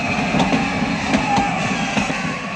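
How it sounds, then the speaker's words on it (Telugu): A train starts moving at a station, with a steady low rumble and a few faint clanks and clicks from the railcars, heard alone at moderate level. "అయ్యో, ట్రైన్ స్టార్ట్ అయింది."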